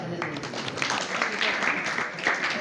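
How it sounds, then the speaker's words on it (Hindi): An audience at a devotional talk on Lord Krishna claps briefly, a dense patter of hands spread through the room with a voice speaking faintly underneath. "अरे वो तालियां"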